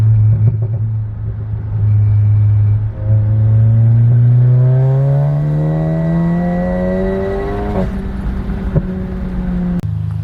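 Big-turbo VW MK7 GTI accelerating hard through a pull, engine note rising steadily and loudly with strong harmonics, then a brief gear change and continued climb before cutting off near the end; close and sustained with no talk.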